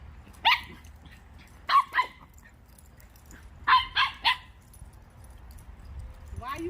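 One dog gives short bursts of barking, single barks and quick doubles and triples, while it runs around outdoors on a summer day, heard close against a quiet background.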